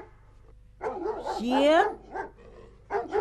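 A dog barks and yelps several times in a Tet comedy skit, sharp and fairly close, mixed with people talking over and between the barks.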